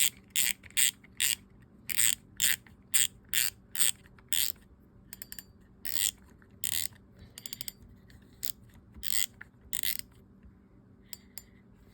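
Sougayilang KO 5000 spinning fishing reel being reassembled, spool and drag knob going back on, giving a run of sharp clicking ratchet bursts, steady and close, with brief pauses and no talk.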